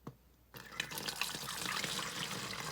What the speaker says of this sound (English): we're going to pour it in our bottle.